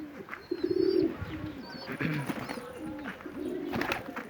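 A Hungarian pigeon with a twisted neck coos in low, repeated throaty phrases, close and clear over a quiet background with faint higher chirps.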